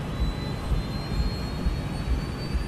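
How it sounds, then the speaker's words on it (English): A Malaysia Airlines jet airliner on Flight 370 accelerates down the runway for takeoff, its engines giving a steady, deep roar with a faint high whine, heard from inside without any voices. "The crew monitors the speed as they accelerate down the runway."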